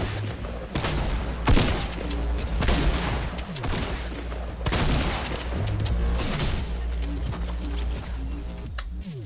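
Rapid gunfire bursts in a Fortnite match, loud and dense, with repeated volleys and booming shots running almost continuously across the whole stretch, no talk over it.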